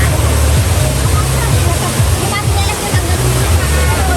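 Pinlac Falls, a waterfall of five tiered drops, roars as a steady, loud broadband rush of falling water, with a low rumble running continuously underneath and no break across the whole stretch.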